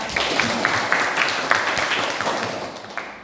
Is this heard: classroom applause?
yes